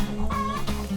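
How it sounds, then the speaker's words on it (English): Rescued hens at an animal rescue give a quick, close cluck and murmur, a brief fowl call lasting about a second. "And then we also have rescued chickens."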